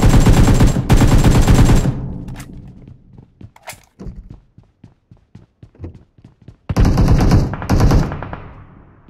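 Machine-gun fire in a video game, two loud rapid bursts at the start and another near the end, with scattered softer thuds and clicks between.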